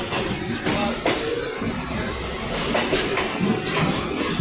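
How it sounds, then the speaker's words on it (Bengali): A Naihati local train rolls into Burrabazar station above Howrah Bridge, a steady loud rumble of wheels and carriages with rhythmic clicks and rattles throughout. "বড়বাজার ঢুকছে ট্রেন।"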